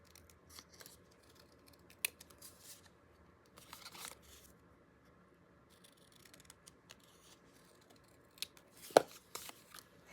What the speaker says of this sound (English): I'm going to cut just a little more off.